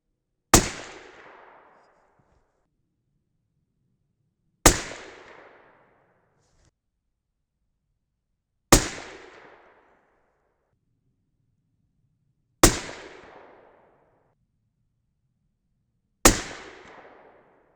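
Five 6.5 Creedmoor rifle shots with 143gr ELD-X handloads of H4350 powder, each a sharp, loud crack with a short decaying echo, fired at steady intervals of roughly four seconds with silence between.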